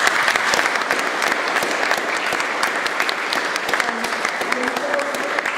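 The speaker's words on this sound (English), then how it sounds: "if you want to stand up to have our applause" Audience applause at a lecture event on national security and civil liberties, sustained dense clapping from a sizable crowd, loud and even throughout with a faint murmur of voices underneath.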